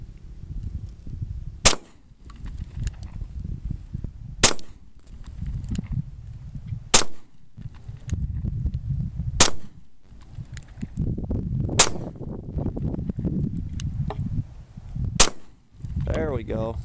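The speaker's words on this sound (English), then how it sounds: "and shoot at that pumpkin." Handgun shots are fired one at a time at a pumpkin, six sharp loud cracks spaced a few seconds apart over a low rumbling background, from a Smith & Wesson Shield compact pistol.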